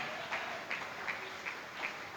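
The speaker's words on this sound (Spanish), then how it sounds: "Dele un aplauso a ese Cristo Jesús de Nazaret" Church congregation clapping at a service, faint and steady with periodic accents of louder rhythmic claps, heard from a distance.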